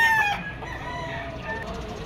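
A rooster crows once at a busy Malabon pet market, the call loud and close at the start and then trailing off, with crowd noise and other birds in the background.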